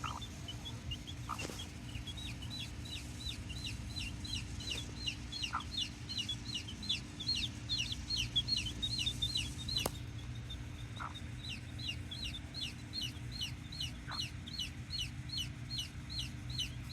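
A broody Silkie hen and her chicks cluck and peep steadily close by, a dense run of repeated high chick cheeps over soft low hen clucks, with a few louder isolated calls and no talking.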